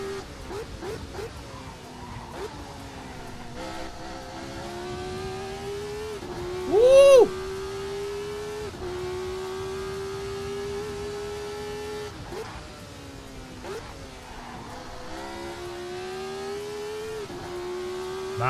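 A race car engine in the sim racing game Assetto Corsa drones steadily at high revs, pitch rising and dipping with gear changes, with a brief loud whoop of a voice midway.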